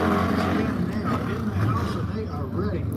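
A drag racing motorcycle at a Sportsman bike event roars through a loud, sustained burnout, its engine droning steadily for the whole stretch with a commentator talking over it.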